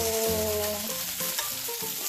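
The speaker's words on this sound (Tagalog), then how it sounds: "So prituhin natin ito. Medyo brown natin side by side yung ating chicken sausage." Loud, steady sizzling of chicken sausage frying in a hot pan, with a constant crackling hiss and faint scraping from stirring.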